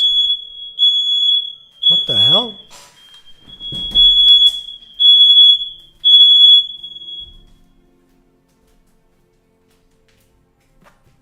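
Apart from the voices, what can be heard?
fire alarm going off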